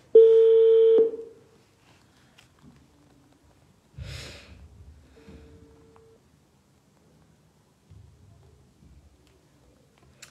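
A telephone emits one loud, steady electronic tone for about a second when a call is redialed, followed by near silence with faint breathing and rustling.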